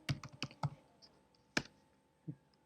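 Scattered keystrokes on a computer keyboard come as a quick burst of clicks, then a few isolated taps with short pauses between them, close and fairly quiet.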